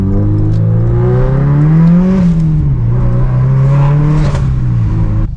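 A Subaru car engine runs steadily after a turbo inlet pipe install, heard as a loud, close, continuous drone from inside the car that rises slightly in pitch midway, then settles into an even hum.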